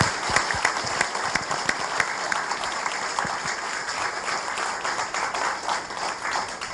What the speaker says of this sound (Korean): 여러분들을 위해서 박수 한번 크게 해